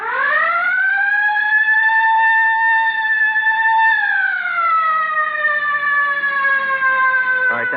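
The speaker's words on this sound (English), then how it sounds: "All right, hit the siren." A loud police car siren in an old-time radio crime drama holds a steady wailing tone, then slides lower and continues, sounding alone and close, with no talking over it.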